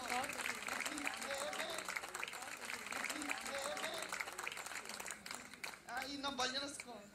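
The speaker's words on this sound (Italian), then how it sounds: "applauso a tutti i keyboards" Audience applause for keyboard students at a student concert, sustained steady clapping throughout with a host talking over it.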